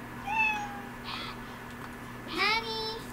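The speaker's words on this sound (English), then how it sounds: "Oh, I heard the cat." Two clear cat meows in the video game Beyond Eyes, one short and one longer, rising and falling, set apart by a quiet pause over a faint steady background hum.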